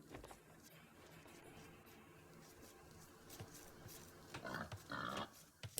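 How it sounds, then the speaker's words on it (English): Pigs in an Age of Empires match grunting softly at low volume amid game ambience, with a brief louder cluster of sounds near the end. "So the sheep, or should I say pigs, are outside."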